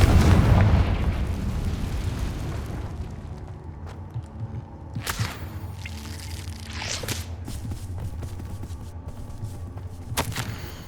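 In Hogwarts Legacy, a Confringo spell explodes with a loud, booming blast that decays into a rumbling wash, followed by several sharp crackling impacts and bursts of in-game combat.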